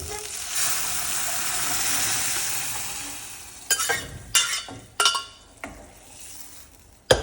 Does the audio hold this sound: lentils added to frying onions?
yes